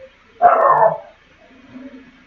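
A dog gives one loud, close bark lasting about half a second, followed by quieter muffled noises in an otherwise quiet indoor space.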